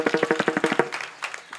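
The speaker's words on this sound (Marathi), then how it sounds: "त्यांच्यासाठी एकदा टाळ्या वाजवा" A small audience at a devotional kirtan claps in a brisk, even rhythm of about nine beats, close and crisp, before the clapping scatters and fades into a few stray claps.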